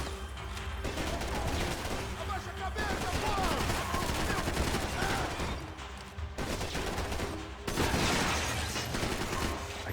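Sustained gunfire from the video game Max Payne 3, a dense continuous rattle of shots over a heavy rumbling bed, broken by brief pauses and swells, with a voice faintly underneath.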